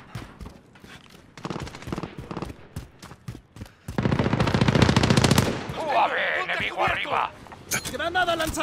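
Bursts of rapid machine-gun fire from a first-person shooter battle in Call of Duty: Modern Warfare, dense repeated cracks building to a loud sustained volley, with a voice calling out in Spanish in between.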